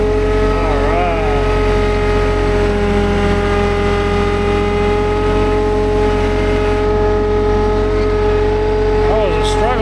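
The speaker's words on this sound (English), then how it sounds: "That was a struggle for that tractor to get back up." A tractor engine labors with a steady, heavy drone while pushing over a tree outdoors, its pitch wavering slightly as it strains; the sound is close and continuous throughout, with no clear speech over it.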